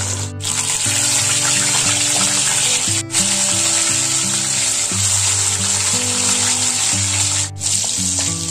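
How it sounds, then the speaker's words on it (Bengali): Small puti fish coated in salt and turmeric frying in hot oil, a loud, constant hissing sizzle with a low steady hum underneath and a few brief dips, no voices. "এখন আমি মাছ ভেজে নেব।"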